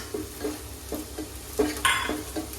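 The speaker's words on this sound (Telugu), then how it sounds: "ఇప్పుడు కొంచెం జీలకర్ర వేస్తున్నానండి" Cumin seeds dropped into a hot pan for an egg masala fry, a soft sizzle with rhythmic stirring scrapes and light clinks of a spoon against the pan, close and fairly quiet, no voices.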